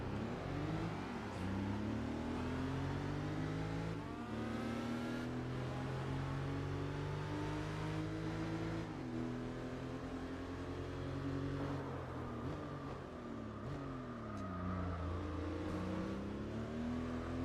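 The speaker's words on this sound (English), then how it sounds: "we're bouncing off the rev limiter on this one" LMP race car in Gran Turismo 4 held hard against its rev limiter, a loud continuous engine drone with rapid stuttering pitch flutter and repeated small rises and dips in revs, filling the whole stretch alone.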